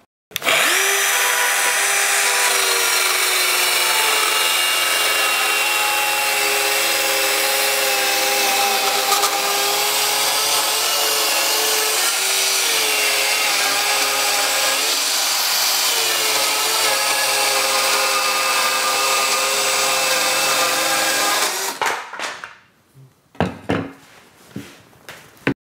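A Bosch GKS 12V-26 cordless circular saw, fitted with a PVC blade, makes an angled cut, whining loudly and steadily close by for over twenty seconds before spinning down into a few short bursts.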